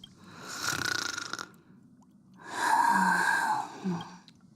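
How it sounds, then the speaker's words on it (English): A sleeping character in the game Honkai: Star Rail snores twice, two long breathy rasping breaths, the second louder and ending in a brief snort, in a quiet scene. "And she snored."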